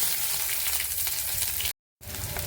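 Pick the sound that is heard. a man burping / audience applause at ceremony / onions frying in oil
onions frying in oil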